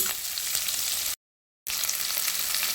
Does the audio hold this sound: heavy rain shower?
no